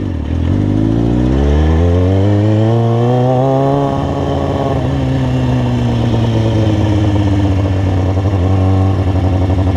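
Motorcycle engine heard close while riding, a loud continuous buzzing drone that rises in pitch as it accelerates, then eases and holds steady.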